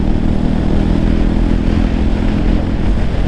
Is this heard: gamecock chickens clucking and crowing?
no